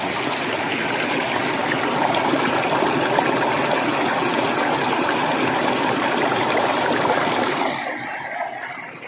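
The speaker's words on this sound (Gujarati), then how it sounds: "આ સિમેન્ટના ભૂંગરા છે ને એમાં પાણી જવા દઈએ વધારાનું" Excess water from a field rushes and gurgles steadily into a cement pipe, a continuous close flowing wash that eases off slightly toward the end.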